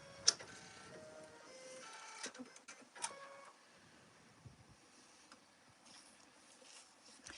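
Embroidery machine stitching shading on a cactus patch: quiet, fairly close mechanical whirring and rapid tapping in short bursts, with occasional sharper clicks and pauses between runs, and no talking.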